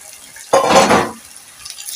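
Boiled green peas tipped into a pan for a pea stew, a sudden close sizzling rush with a scraping stir that lasts under a second before fading to quiet kitchen noise.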